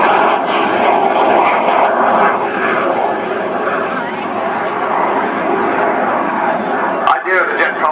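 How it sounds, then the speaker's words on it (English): A Jet Provost jet trainer flying at an air show, a loud, continuous jet roar that shifts in pitch as it passes, with a commentator talking over it. "So here comes John Beattie in the jet Provost, rudely known as the constant power variable noise machine"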